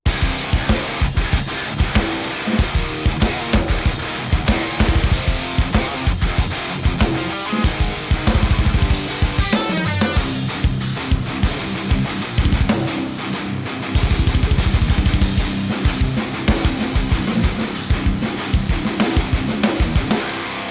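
Heavy, distorted, multi-tracked metal guitars chug along with a pounding drum kit, dense and loud throughout, with no vocals.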